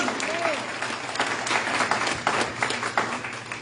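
Church congregation at a sermon claps in a brief burst of applause, irregular overlapping hand claps at moderate volume with a faint voice mixed in.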